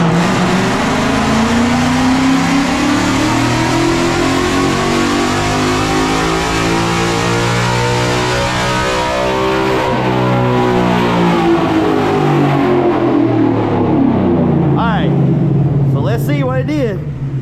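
Engine of a 2018–2023 Mustang GT fitted with a 2024 intake and dual throttle bodies runs on a dyno, its loud revs climbing and falling in a long sweep before settling, with voices talking over the end.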